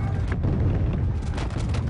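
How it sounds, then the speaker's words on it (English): 1815-era artillery guns from a Napoleonic grand battery open a bombardment: a loud, continuous heavy rumble of cannon fire with deep booms blending together, no single shots standing apart. "Finally, around midday, the French guns opened fire."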